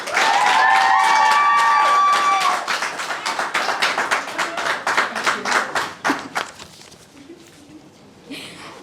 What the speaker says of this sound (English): Thank you, everyone, for clapping for me.